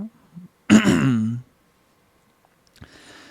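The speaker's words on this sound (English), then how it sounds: "Let me clear my throat." A single close, harsh throat clearing bursts out after a quiet murmur, followed by silence and then soft speech.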